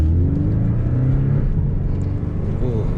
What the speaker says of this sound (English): that first gear coming off the stop sign in manual mode, pretty cool